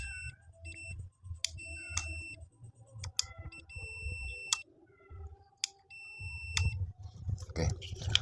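A digital multimeter gives sharp continuity beeps while testing a switch, several short electronic tones in irregular bursts, close and clear, over a low background hum with clicks of the probes.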